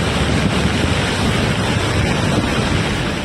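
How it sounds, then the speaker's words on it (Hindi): Flash floodwater rushes with debris through a hillside town in Mandi, Himachal Pradesh, a loud, continuous roaring torrent with no voices. "पानी के तेज बहाव के साथ पहाड़ों का मलबा भी लोगों के घरों के आगे से गुजरने लगा।"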